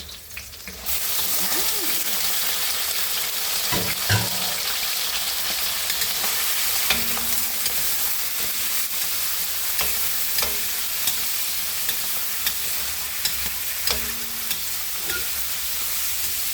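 Liver frying in oil in a pan gives a steady, close sizzle throughout, with faint clinks from stirring now and then.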